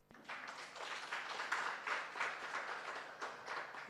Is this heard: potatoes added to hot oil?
no